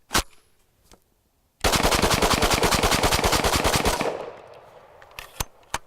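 Rifle loaded with steel-case Tula ammunition firing a rapid string of about thirty loud shots at an even pace, after a couple of isolated shots; the burst cuts off abruptly and leaves a fading echo and a few faint clicks.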